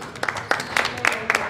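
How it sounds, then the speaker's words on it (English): An opening-ceremony crowd for the New Mexico Games 2022 bursts into a brief, dense round of applause, with clustered hand claps rising and falling under a faint voice. "Give her a round of applause."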